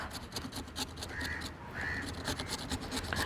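A carrot is grated on the finest side of a grater into a bowl for a salad, producing close, rhythmic rasping strokes that repeat steadily over a faint room background.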